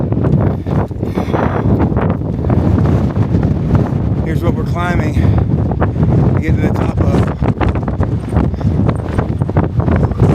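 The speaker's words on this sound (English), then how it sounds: "It's already gusting." Strong gusting wind on a mountain top in the Presidential Range on the Appalachian Trail buffets the microphone with a constant roar while someone talks over it.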